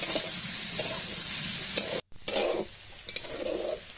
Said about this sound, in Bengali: এটিকে ফ্রাই করার জন্য অনবরত নাড়তে থাকবো।